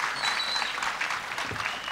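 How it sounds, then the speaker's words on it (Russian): A studio audience at a TV game show claps steadily, a dense, even wash of applause filling the room without pauses. "Поможем папе аплодисментами, что-то он растерялся в последний момент."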